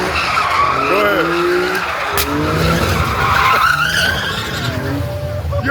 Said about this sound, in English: You burned your engine out.